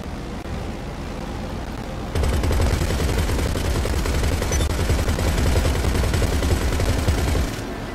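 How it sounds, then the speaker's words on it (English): Turret guns on a Mogul aircraft in GTA Online open up in a sustained, loud burst of rapid gunfire over a droning engine, both gunners firing together, then cutting off abruptly. "I'm almost going completely upside down with both gunners shooting simultaneously at the oppressor"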